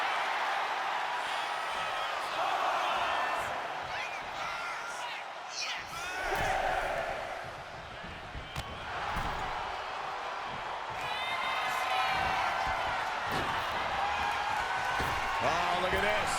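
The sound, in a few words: crowd cheering in WWE 2K25 video game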